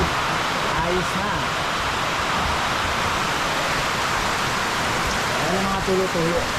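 Steady rain drums on the roof of Chairman's upgraded island house, a dense continuous hiss that never lets up, with faint voices murmuring underneath at moments.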